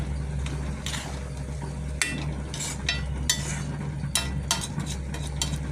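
Food sautés in oil in a home kitchen pan, a steady low sizzle punctuated by repeated scraping and clinking of a stirring utensil against the pan.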